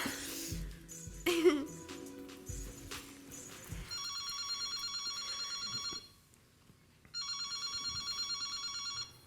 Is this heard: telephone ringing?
yes